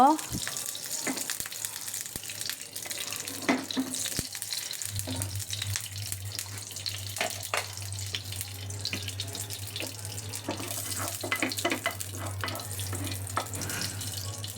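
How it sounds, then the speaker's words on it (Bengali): Semolina fries in ghee in a pan over low heat, giving a steady close sizzle with scattered clicks of spoon and pan. A low running-water hum joins partway through. "ঘি দিয়ে আমি সুজিটাকে বাজব একটু লো হিটে সুজিটাকে ঘি দিয়ে বাজব"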